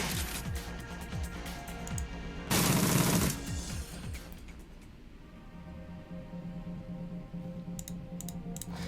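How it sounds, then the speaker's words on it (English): Rifle gunfire in the video game Shadowrun: Dragonfall: a dense run of sharp shots through the first few seconds with one loud burst near the middle, then quieter clicks and faint shots under game ambience. "rifles are crazy powerful in this game"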